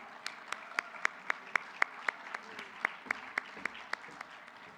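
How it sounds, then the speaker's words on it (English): Banquet audience applauding at the LULAC National Convention Presidential Awards, with a steady run of sharp, evenly spaced claps close by over a softer wash of crowd clapping for nearly five seconds. "So give her one big round of applause"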